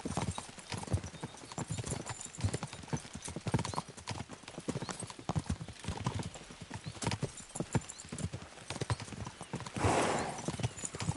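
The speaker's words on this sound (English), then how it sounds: "We should spur the horses on." Several horses ridden at pace in a video game, a dense, steady clip-clop of hooves, close and fairly loud, with a brief whinny near the end and occasional voices.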